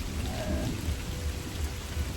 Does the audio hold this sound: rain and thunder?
yes